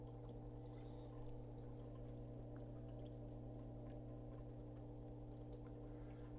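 Water drains through the hose of a countertop dishwasher during its wash cycle, a steady low pouring and gurgling flow under a constant machine hum, close and unbroken.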